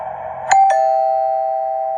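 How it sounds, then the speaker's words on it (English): A doorbell rings in a quiet home: two quick bright strikes, then a clear chime that rings on steadily and slowly fades. "Suddenly, the doorbell rang."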